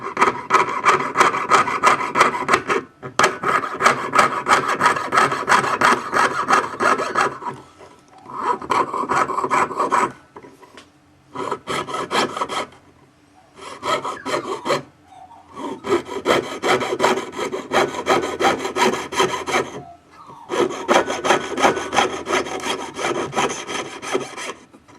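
A fine jeweller's saw and file work a small Celtic design pendant, giving long bursts of rapid, close rasping strokes broken by short pauses, loud and alone without speech.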